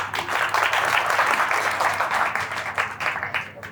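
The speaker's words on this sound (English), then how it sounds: "Clap for yourself." An audience at a corporate talk on talent retention claps for itself, a broad wash of applause that swells and then thins out toward the end.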